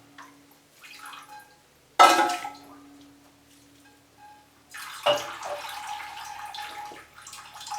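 An orchid is watered from a tap in two separate bursts of running, splashing water, the first short and the second longer, with quiet gaps and faint clinks between them.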